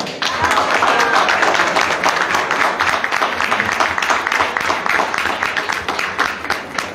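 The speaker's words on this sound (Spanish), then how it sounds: "de León Villar, por lo cual pedimos fuertes los aplausos." Sustained, loud applause from a crowd at a political event in Tapachula, steady dense clapping throughout with no pauses.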